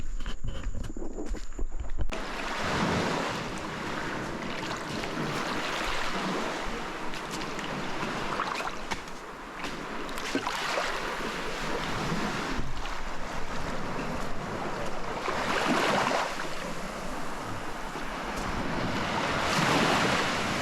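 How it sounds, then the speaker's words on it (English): Ocean waves wash steadily onto the shore at Kulki Beach in Cape Tribulation, with the surf rolling and hissing over a constant rush of wind across the microphone. No one speaks. "The waves gently hug the shore"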